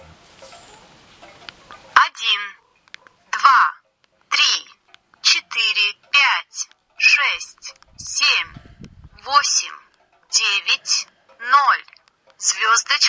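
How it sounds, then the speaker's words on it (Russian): A series of short electronic beep tones from a MAXVI E6 flip phone keypad, about a dozen in a steady, evenly spaced sequence, close and fairly loud with no talking. "Кнопки у нас идет звуковое оповещение."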